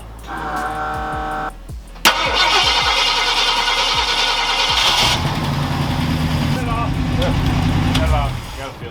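A Ford Galaxie, just rewired and running for the first time in over a year, idles roughly, then cranks with rhythmic starter pulses and fires into a loud revving run, with people talking over it.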